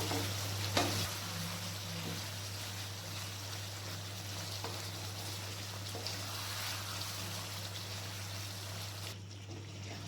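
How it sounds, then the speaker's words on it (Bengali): Chicken pieces sizzle and fry in a pan while being stirred, keeping up a steady close hiss with occasional scraping clinks and no talking. "নাড়াচাড়া করে নিয়ে চিকেনের জলটাকে একটু শুকিয়ে নেবো"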